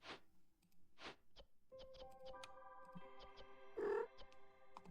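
A cat meows indoors with a few short cries spaced out over several seconds, heard faintly against quiet game music and soft ticking, ending with one louder yowl.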